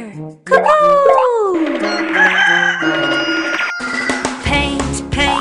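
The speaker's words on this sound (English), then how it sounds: "Rooster, Cuckoo!" A rooster crows within a children's nursery rhyme song, a loud bright call over steady musical backing, with a sung or spoken voice around it.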